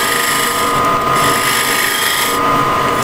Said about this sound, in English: As you can see, now I can use it as a shear scraper as well.